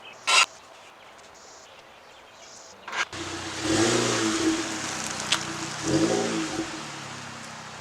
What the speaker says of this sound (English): I am going to run the car a little bit, idle for about 5 minutes